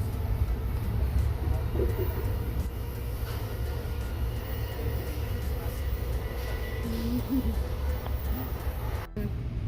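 Steady low rumble of a New York-bound train carriage in motion near Princeton Junction, a constant rolling drone with faint rattles and a brief click near the end.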